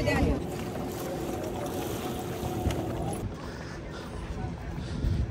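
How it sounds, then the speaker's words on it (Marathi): A boat arriving at the jetty of Sindhudurg sea fort near Malvan, its engine rumbling steadily with water and wind noise, close and fairly loud, the engine tone dropping partway through as it comes in, with voices present. "बोट जेटीवर पोहोचली आणि उतरून घ्यायचं."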